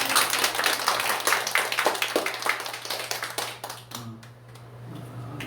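A church congregation claps in encouragement, a dense burst of many hands that is loud at first, then thins out and fades to a few scattered claps.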